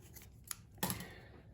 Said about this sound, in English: I'll cut this knot off. Oops, this is a bad scissors.